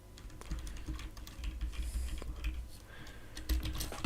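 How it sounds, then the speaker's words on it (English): Someone types on a computer keyboard with rapid, irregular clicks and key taps, close and fairly quiet over a low background hum. "What am I typing here?"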